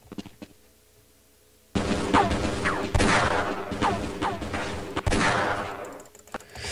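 Gunfire in Half-Life: Blue Shift, a burst of loud, close shots after a quiet start, several sharp reports in quick succession with rumbling tails and a brief pause, no talking over it.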